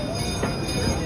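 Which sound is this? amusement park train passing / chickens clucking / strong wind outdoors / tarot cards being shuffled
amusement park train passing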